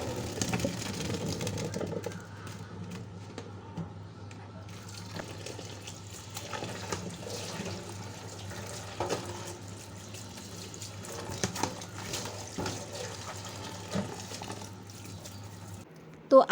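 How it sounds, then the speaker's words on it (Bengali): A pot of water with rice, star anise and mace comes to a boil on the stove for kacchi biryani, giving a faint, steady bubbling hiss over a low hum, then a brief clatter at the very end. "চালটাকে একটু ফুটিয়ে নিব বেশি"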